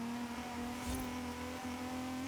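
A rally car with street looks revs its engine in a racing video game, a steady droning engine tone holding a constant pitch, fairly quiet and without speech.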